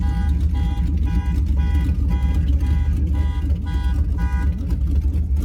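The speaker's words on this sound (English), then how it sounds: "I'm setting off my alarm" An alarm on an 800-horsepower Chrysler 300 repeats a rapid electronic tone about twice per second, loud and close, over a constant deep engine rumble.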